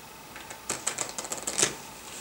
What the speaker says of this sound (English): shuffle our piles.